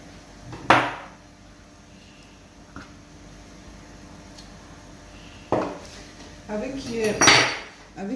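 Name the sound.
small spoon scraping out fruit flesh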